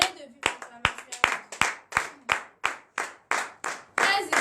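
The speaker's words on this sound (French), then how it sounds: "Donnez de vive acclamation" A church congregation at a morning prayer service in Benin claps in unison, about a dozen sharp, evenly spaced beats in a steady rhythm, with faint voices underneath.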